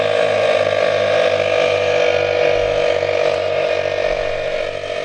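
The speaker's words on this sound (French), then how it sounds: "Là ensuite je peux démarrer mon compresseur." A portable air compressor runs steadily and loudly close by, its motor giving a constant hum with a rapid, even mechanical pulsing throughout.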